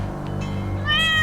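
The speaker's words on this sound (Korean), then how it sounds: "그것은 세조의 꿈속에 나타난 고양이였다." A cat gives a single clear, rising meow near the end, heard over a low steady background hum in a Korean historical drama.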